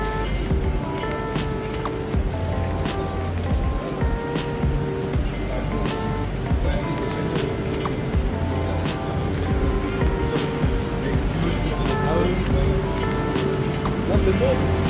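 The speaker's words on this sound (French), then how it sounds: "je vais couper le son afin que vous profitez du bruit du moteur" A TGV PSE trainset's motor gives a steady, loud, continuous rumble with a low droning hum at a Paris Technicentre maintenance depot during European Heritage Days.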